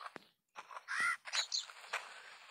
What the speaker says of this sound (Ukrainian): Так, бачу ворону.